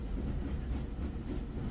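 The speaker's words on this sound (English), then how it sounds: "as the train continues its relentless drive west across Texas" A passenger train runs westward across Texas, giving a steady, close rumble of wheels on rails with a faint clatter, continuous and unbroken for a short stretch with no voices.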